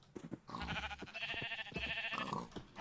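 Sheep bleating in Minecraft, several quick wavering bleats overlapping in a short burst, close and fairly loud, with a few soft blocky taps between calls and no talk.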